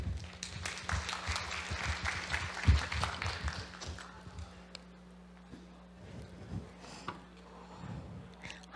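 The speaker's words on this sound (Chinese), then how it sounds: "掌声欢迎 Turkey" Applause from an audience at the HITCON CMT 2017 hacker conference welcomes a speaker to the stage, a burst of dense clapping over the first few seconds that thins and fades into a quieter room.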